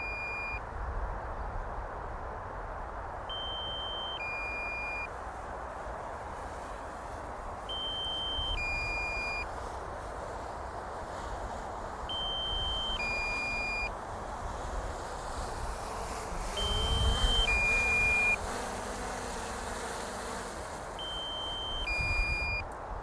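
A drone's short electronic beeps repeat at regular intervals while it lands in a park, fairly faint, over steady wind noise.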